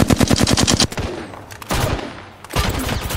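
Gunfire in Apex Legends: a loud, rapid automatic burst opens, then single heavy shots follow with echoing tails, with no talking.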